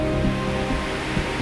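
Reekie Linn waterfall in Scotland pours as a steady, broad rushing roar of falling water, constant and fairly loud with no voices.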